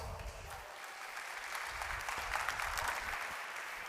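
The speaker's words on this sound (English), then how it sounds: "Give them a little round of applause" A brief patter of applause from football players at a training session for small-sided goal-scoring games, steady and moderately distant for a few seconds.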